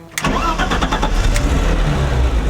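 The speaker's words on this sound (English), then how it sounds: "We'll turn over the car. Just so we can let it run a little." A Datsun 240Z engine cranks and fires on the first try after a short quiet lead-in, then settles into a loud, steady, rumbling idle close to the microphone with no talking.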